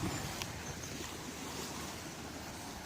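Sea waves wash onto a beach with a steady broadband roar, close and continuous, mixed with wind buffeting the microphone and no speech.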